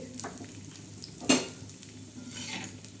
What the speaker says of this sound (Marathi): काळा मसाला भाजण्यासाठी आपण हा थोडासा कांदा भाजून घेणार आहोत